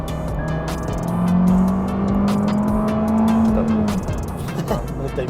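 An Abarth Rivale, limited edition, accelerating hard from 0 to 100 km/h on a closed road: a loud rising engine drone climbs steadily for about four seconds with tire noise, then eases off, without talk.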